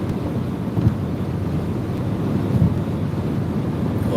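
Strong wind buffets the microphone outdoors beside a van on an armwrestling road tour, a steady low rumbling roar with gusty swells that continues throughout, with no talking.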